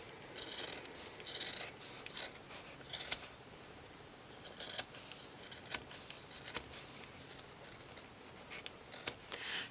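Scissors snip through the layered fabric of a stocking cuff in a series of close, quiet cuts and rasps, with short pauses between them and no speech.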